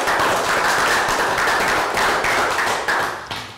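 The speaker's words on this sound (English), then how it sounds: "So well done, guys. Round of applause." A small group of children gives a round of applause after a primary school maths lesson, steady close clapping that runs throughout and tapers off at the end.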